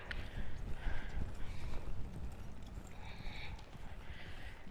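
Horse hooves at a canter during a riding training session, a steady rhythmic clip-clop of footfalls close by, loud and continuous, with no talk over it.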